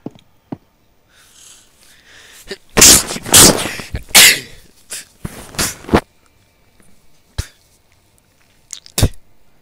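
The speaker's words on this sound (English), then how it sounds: "Sorry, I have a sneezing problem." Several loud, close sneezes and snorting nose bursts come in irregular clusters over a quiet background, each a sharp explosive burst.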